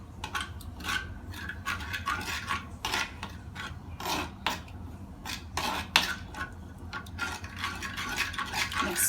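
A spoon clinks and scrapes against a bowl while salt is mixed into blanched onions for Sri Lankan pickle, giving repeated close metallic rubs and taps in an irregular rhythm.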